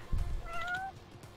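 A single clear cat meow in the video game Lost Judgment, a rising then falling tonal cry following a short low thump, moderately loud with no talking.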